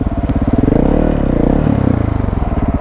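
A KTM 690 Enduro motorcycle engine idles and revs roughly at close range, its pulsing chug rising briefly and then settling, with no voices.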